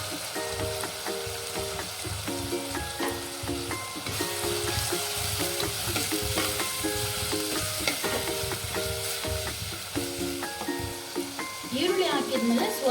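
Onions sizzle and fry in hot oil in a pan for tomato bath, a continuous crackling hiss with occasional stirring scrapes, and a voice talks over it.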